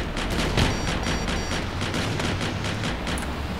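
A robot's big gun fires in the Scraps vehicle-combat game, with rapid repeated bursts of gunfire in a steady, dense rhythm throughout, fairly close and alone without talk.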